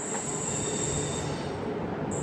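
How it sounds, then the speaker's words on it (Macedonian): A train rolls into a station, its wheels squealing steadily in a high metallic whine over a dense rumbling roar, loud and continuous throughout. "еве го возот стасува"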